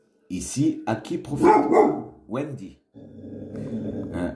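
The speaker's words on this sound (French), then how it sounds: "Je suis désolé, c'est le chien." A dog barks and growls in short, loud bursts near the microphone during a French history talk, and someone speaks over part of it.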